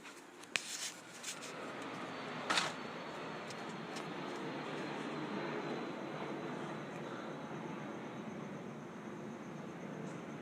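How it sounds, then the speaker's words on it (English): An airplane passes overhead outdoors, a faint, steady distant rumble over open air, with a couple of small nearby clicks and no speech. "there's an airplane"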